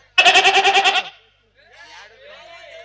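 A goat kid bleats once in a loud, wavering, quavering cry during a stage drama, followed by a quieter stretch of a voice.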